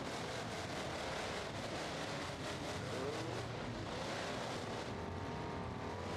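Racing truck engines in a virtual racing game roar continuously with a steady, dense drone, faint in level, as the trucks run together with wind-like noise and a brief tire squeal.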